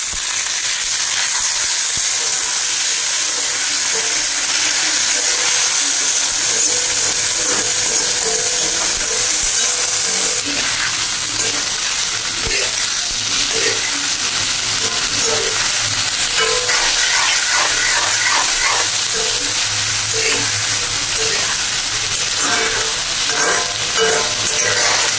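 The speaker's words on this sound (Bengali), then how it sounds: "এবার দিয়ে দিলাম টমেটো। এটা দিয়েও আরেকটু করে নেড়ে চেড়ে নেব।" Broiler chicken curry with tomato stirred in a pan, a steady loud sizzle of frying with repeated scraping strokes of a spoon throughout, close and continuous, with no talking.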